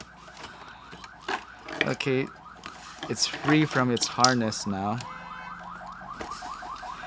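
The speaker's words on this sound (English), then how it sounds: "Oh great, an ambulance." An ambulance siren outside a residence wails and warbles in repeating rising and falling tones, heard through the walls beneath someone talking indoors.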